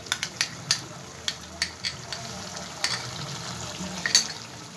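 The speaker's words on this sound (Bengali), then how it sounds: "দিয়ে মশলাটাকে খুব ভালো করে আমি কষাবো যতক্ষণ না মশলাটার থেকে তেলটা ছেড়ে দিচ্ছে" Ground spice paste fries in oil for a potato kosha curry, a soft continuous sizzle broken by a series of sharp spoon scrapes and clacks against the pan, close and fairly quiet.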